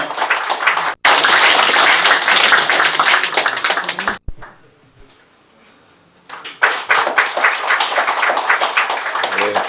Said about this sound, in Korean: 뜨거운 박수 부탁합니다